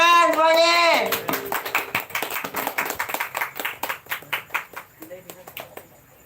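Clapping from a small group at a Betawi Palang Pintu performance with silat martial arts, a burst of claps following a sung or shouted phrase, then loose rhythmic hand claps that gradually thin out.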